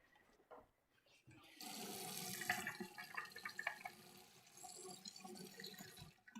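Tap water running into a sink while rinsing something out, a steady broadband rush that starts after a quiet moment and continues at moderate level with small splashes and clatters, fairly close.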